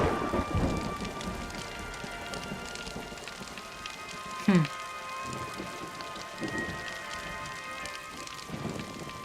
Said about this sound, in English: Jaguar says the rain sounds in the game sound comfy.